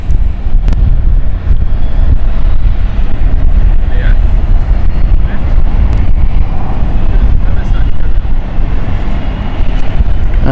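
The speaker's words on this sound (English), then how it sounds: "Our Edinburgh flight is just on short final now." An airliner on short final into London City Airport gives off a loud, continuous low engine roar mixed with heavy wind buffeting on the microphone.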